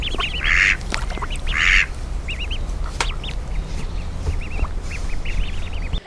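Ducks on a canal quack in a few loud nearby bursts, with lighter chirps and calls scattered between them over a low steady background hum.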